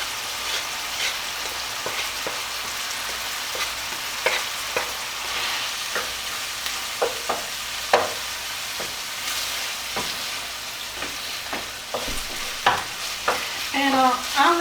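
Onion frying in a pan for a burrito casserole, a steady close sizzle with scraping and clicking as it is stirred, no voices over it.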